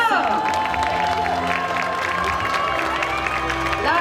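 An audience at a cosplay runway show at a geek convention in Roanne claps and cheers as costumed performers walk onto the stage, a steady dense wash of applause and crowd noise under amplified music.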